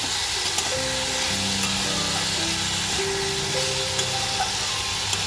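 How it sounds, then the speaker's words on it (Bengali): Potatoes frying and sizzling in a pan while being stirred, a steady broadband hiss with scraping stir sounds running throughout, close and fairly loud, with a low hum beneath. "দু মিনিটের মতো আলুটা আমি একটু নাড়াচাড়া করে নিয়েছি"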